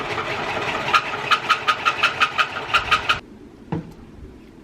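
A sewing machine stitches a hair scarf made from old clothes in a short burst of rapid, rhythmic needle clatter, then cuts off, leaving low background noise and a single soft knock.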